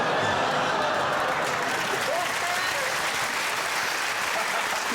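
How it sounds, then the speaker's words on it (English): Studio audience at a comedy panel show lets out a mixed groan and applause, a steady wash of clapping with faint chuckles, fairly quiet and continuous. "That's a classic mixture of groan and applause."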